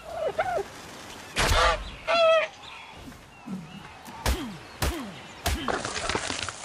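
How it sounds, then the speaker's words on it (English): Creature calls from the video game ARK: Survival Evolved, a series of short honking, squawking bird cries and swooping chirps spread over several seconds, moderately loud, with sharp bursts between quieter pauses. "Oh no, another one of these birds. Go away."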